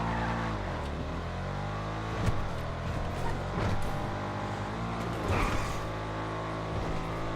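A slow car drives down a bumpy road in Grand Theft Auto 5 Online, its engine a steady low drone with occasional creaks and knocks from the suspension, continuous and fairly close.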